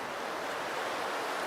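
Steady, broadband wind rushes outdoors beside a campfire where bannock is being cooked, a continuous roar buffeting the microphone without pauses or voices.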